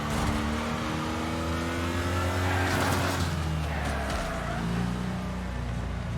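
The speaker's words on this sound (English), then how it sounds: "spun him out. He hits the wall." Car in the Wreckfest racing game spinning out and striking a wall, revving engine and tire noise close up with a rough scrape partway through, no speech.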